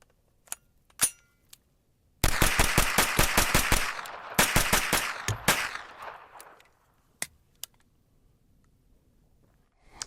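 A CMMG Guard 9mm pistol fired at a shooting range, a few scattered single shots, then a fast string of about a dozen sharp reports in two bursts, loud and close, ending with a few more isolated shots.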